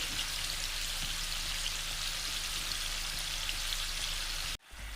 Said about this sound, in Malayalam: ഇത് ഫ്രൈ ചെയ്യുകയാണെന്ന് പറഞ്ഞാലും ഒത്തിരി അങ്ങ് മൂപ്പിക്കണ്ട ഒന്ന് വെന്ത് കിട്ടിയാൽ മതി